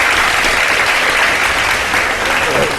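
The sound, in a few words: studio audience applause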